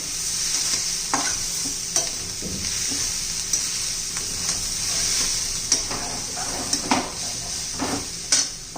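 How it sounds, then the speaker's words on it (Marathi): A spoon stirs bitter gourd curry with homemade masala in a pan. Irregular scraping strokes and clinks sound over a soft, continuous sizzle from the frying, close by and with no talking. "सर्व व्यवस्थित मिक्स करून घेऊ."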